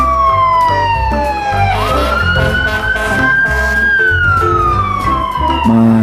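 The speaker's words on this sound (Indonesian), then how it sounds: "Lanjut, yang ini ada mobil damkar teman-teman." A toy fire truck's electronic siren wails loudly and close, its tone sliding up and down over a steady buzzing motor and beeping toy tones, with no talking.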